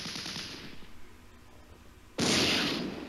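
Weapons fire at a tank in the Flashpoint Campaigns Red Storm war game: scattered rumbling shots rattle at first, then a sudden loud blast erupts and holds near the end.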